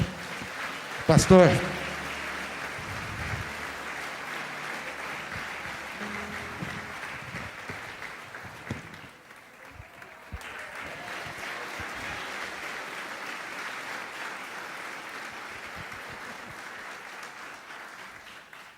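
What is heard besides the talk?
congregation applauding in church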